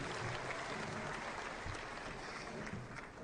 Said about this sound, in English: Another big round of applause for the drama group.